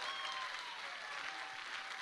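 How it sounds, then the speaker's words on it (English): A church congregation claps their hands in worship, an even wash of clapping that holds steady throughout, soft and somewhat distant. "Clap your hand to the Lord."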